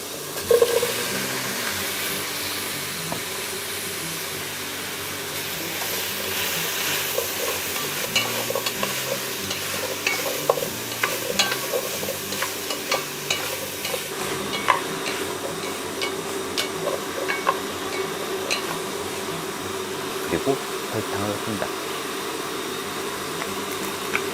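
Edible insects, mealworms, fry in a pan until golden, sizzling steadily and closely for a long stretch with scattered crackles and faint stirring, no voices.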